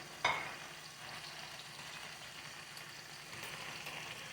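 Garlic and green peppers sauté in olive oil, a steady low frying sizzle that runs throughout, with a brief utensil click near the start and a slightly louder hiss toward the end.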